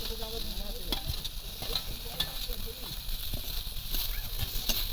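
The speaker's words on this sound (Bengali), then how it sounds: "এবার সবজির সঙ্গে মশলা একদম ভালো করে একটু কষিয়ে নিচ্ছে" Fried potato and eggplant sautéed with spices in a pan, a steady sizzle and hiss with scraping stirs of a spatula throughout, close by, with faint voices in the background.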